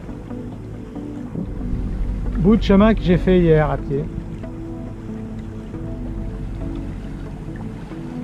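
A sailboat motoring along the Corsican coast near the Golfe de Galeria, between Girolata and Calvi, gives off a steady low engine drone with wind and water noise, while someone talks over it in French.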